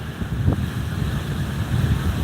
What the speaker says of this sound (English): It's just too windy.